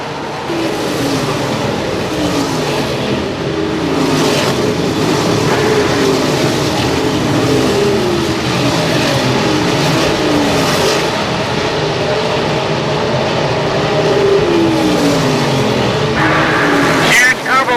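Race cars circling the track late in a 2017 race, a loud continuous engine roar with repeated sweeping passes as cars go by, while a commentator talks over it.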